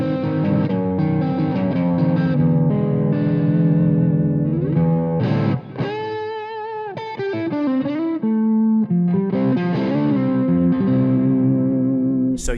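Distorted electric blues guitar rings out close and loud, with sustained chords, bends and sharp stabs that shift between hard and lighter attacks, coated in chorus-like effects and played without talk.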